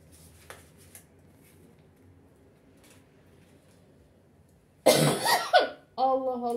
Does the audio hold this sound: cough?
yes